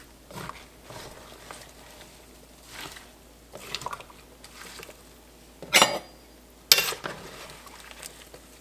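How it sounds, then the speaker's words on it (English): Apples are stirred in a pan to coat them in syrup, giving soft wet squelching and scraping strokes at an uneven rhythm, with two sharper clanks of the utensil against the pan near the end. "coat all of the apples with the syrup"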